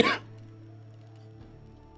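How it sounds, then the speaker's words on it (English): A single short, dry cough right at the start, followed by a quiet, steady background hum. "It's just like a little bit of a dry cough."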